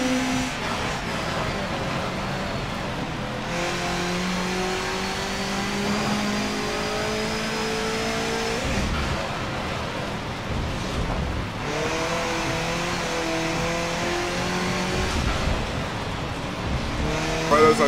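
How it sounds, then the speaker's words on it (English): A car engine revs hard and shifts through gears in Forza Motorsport 7, steady and loud, with repeated rising pitch sweeps and brief tire squeals. "The engine sounds so cool."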